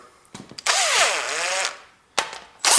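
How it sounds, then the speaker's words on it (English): An electric driver spins a long cylinder head bolt on a Ford Duratec engine in two loud, close whirring bursts with a rising and falling pitch, separated by short clicks and handling noise. "then I can rotate that little bit faster with my electric driver"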